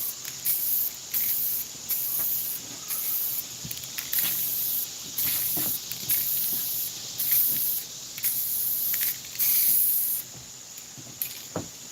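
A spray gun hisses in repeated bursts while finishing wood, each spray a few seconds long with short pauses between, close and steady, with no talk.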